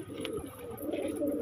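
A large pigeon coos softly up close, a low, rolling murmur that swells and repeats across the short stretch.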